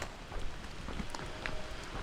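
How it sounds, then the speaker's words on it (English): Steady rain falls on the Appalachian Trail between Front Royal and Harpers Ferry, a dense, even hiss of drops that stays constant throughout, with no voices. "It's already starting to rain pretty good here."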